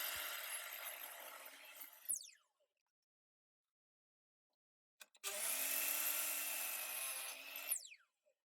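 A power saw cuts wooden slats in two separate bursts, each ending as the blade winds down, with a short silence between them.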